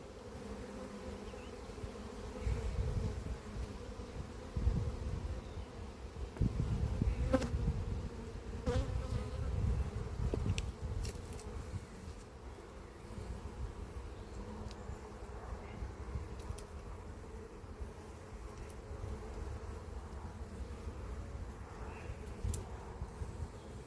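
Honeybees at an apiary hive hum in a steady, close buzz throughout, swelling slightly in the middle, with faint rustling and occasional handling knocks underneath.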